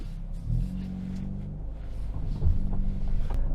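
A 2024 Hyundai Elantra N facelift with 280 horsepower cruises in eco mode during a road test, giving a steady, fairly quiet low engine drone and road rumble that swells slightly toward the end.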